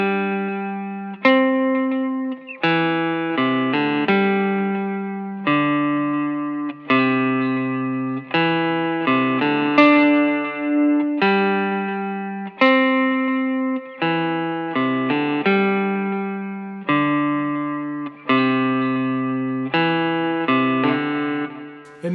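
Clean electric guitar riff played with ambient reverb, steady picked notes and chords ringing out with a soft wash of effects, a worship-song part played alone with no voices.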